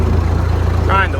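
The engine of a John Deere 3300 combine runs as it drives, a steady low rumbling drone throughout, with a voice breaking in briefly near the end.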